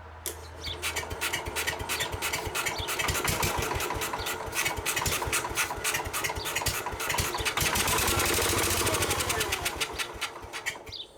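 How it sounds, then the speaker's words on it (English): An old tractor engine cranks on its starter for about eleven seconds, a loud, steady rapid chugging rhythm that holds without catching, close to the microphone and with no talking. "You gotta stay on the starter longer"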